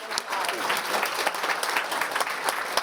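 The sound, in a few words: audience applause for panelists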